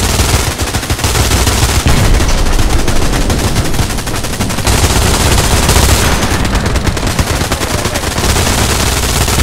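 MG42 heavy machine gun firing from a bunker in Hell Let Loose, a loud, continuous rapid-fire roar lasting the whole stretch with only brief breaks between long bursts.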